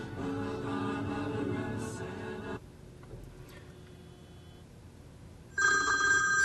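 Phone call ringing through a Bluetooth car kit in a 2002-2006 Toyota Camry, a ringing tone heard over background music, then a quiet pause and a fresh ring near the end.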